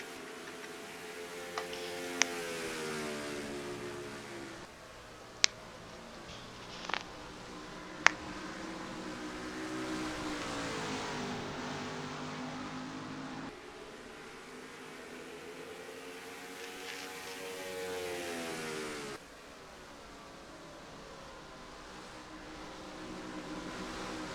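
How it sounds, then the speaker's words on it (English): Engines whine and rise and fall in pitch as race cars pass in a racing video game at Milwaukee, with cars on pit road, layered in a continuous hum with a few sharp clicks. "And I hear cars on pit road."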